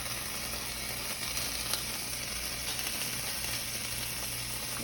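Three strips of bacon fry in a pan with a steady, even sizzle and hiss, moderately close and continuous, with a faint low hum beneath and no talk.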